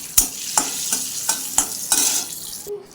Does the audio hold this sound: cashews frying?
yes